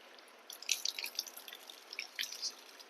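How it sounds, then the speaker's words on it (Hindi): Water from a tap runs and drips as hands are washed for wudu, scattered light splashes and trickles at close range, fairly faint, without speech. "सीधे हाथ को धो लीजिए, फिर उल्टे हाथ को धोइए।"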